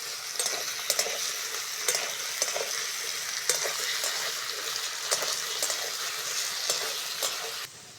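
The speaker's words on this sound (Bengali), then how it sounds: "প্রথমেই আলুটাকে ভালো করে ভেজে নেব।" Potatoes fry in a pan with a steady, close sizzle and hiss, punctuated by regular scraping and clacking as a utensil stirs them, and no one talks.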